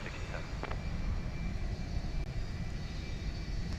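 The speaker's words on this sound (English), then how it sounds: "Methinks I hear a 757." Boeing 757 jet at DFW Airport at night, its engine roar a steady broadband rumble held at moderate distance for the whole stretch, without any talk.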